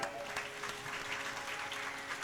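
A Ram Katha audience claps in a thin, even patter of scattered hands that holds steady throughout, moderately quiet and without any distinct voices.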